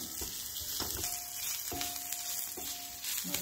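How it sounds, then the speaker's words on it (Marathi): Onion sautéing in a pan until browned, a continuous gentle sizzle broken by occasional scraping stirs, fairly quiet and close. "हा आपला कांदा तांबूस रंगावर उतरलेला आहे. अजून थोडा परतून घेऊ आपण."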